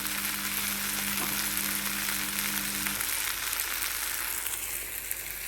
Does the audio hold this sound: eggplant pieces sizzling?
yes